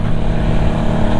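A Honda CB 450 motorcycle engine, freshly tuned after carburettor work, runs loud and close in a brief, steady burst of throaty exhaust rumble.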